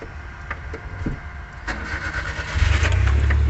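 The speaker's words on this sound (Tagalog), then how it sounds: "So naka-ignition na yan, paandarin natin yung makina." A Suzuki DA63 with a K6A engine cranks with a few clicks and whirrs, then catches and settles into a loud, steady idle close by.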